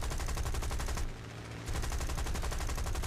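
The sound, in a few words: machine gun fire from an aircraft in the video game War Thunder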